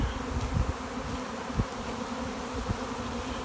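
A honeybee swarm pouring out of a Saskatraz hive, a dense continuous buzzing drone close and loud, with occasional individual bees zipping past.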